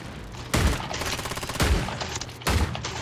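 Loud video game gunfire during a multiplayer shootout, with three sharp bursts of shots at roughly one-second intervals over a sustained rattle of weapon fire.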